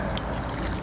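Water poured into a pan of seasoned taco meat, a brief, continuous splashing trickle close by, filling the moment evenly.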